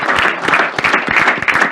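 Audience applause for a doctor at a health talk: dense, steady clapping from a crowd, loud and close, with brief bursts and no talking over it.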